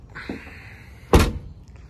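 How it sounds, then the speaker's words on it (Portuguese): A Kia Seltos diesel SUV's trunk lid swings shut with one firm, close thud after a faint rustle, then quiet. "fechar aqui o porta-malas."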